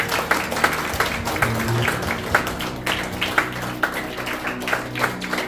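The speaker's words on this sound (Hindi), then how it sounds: "एक बार परमेश्वर के लिए जोरदार ताली बजाइए।" Church congregation at a Sunday service clapping together, a dense, steady patter of many hands with scattered louder claps and a low hum of voices underneath, lasting several seconds.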